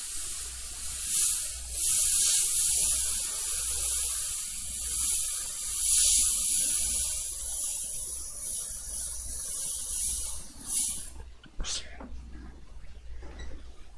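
An airbrush sprays paint on a portrait painting in soft, intermittent bursts of high hiss, with a person talking steadily over it.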